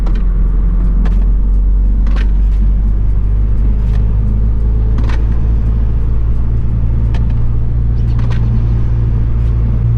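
A car fitted with H&R lowering springs drives along at around 40 to 60 km/h, its loud low rumble steady throughout while sharp clunks from the suspension knock through at irregular intervals, about every second or two.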